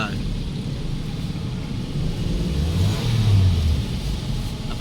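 A 2012 Toyota Vios with a check-engine, ABS and handbrake-indicator fault starts up and idles close by: a steady low rumble that swells slightly partway through, with faint speech underneath.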